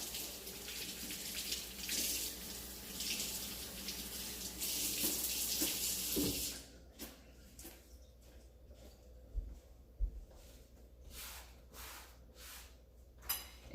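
A kitchen tap runs cool water over romaine lettuce, a steady splashing stream for about six seconds that then stops, followed by faint scattered drips and soft handling sounds.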